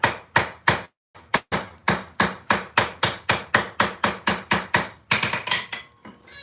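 A hammer strikes about twenty sharp, ringing blows in a fast, even rhythm, clinching a rivet on bolt jaw tongs, with a short pause after the first few and a final flurry of lighter taps.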